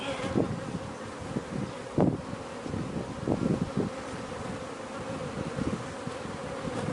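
Honey bees hum in a dense, steady drone around a hive, many close by, with occasional louder buzzes as individual bees pass near.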